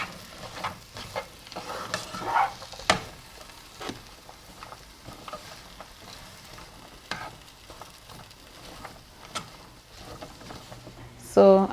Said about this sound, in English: I'm sauteing my onion and my carrot for a minute